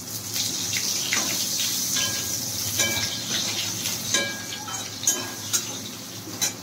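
Bengali five-spice panch phoron fries in oil in a pan, a steady sizzle with scattered pops, crackles and light clinks of a utensil against the pan, heard close with no talking.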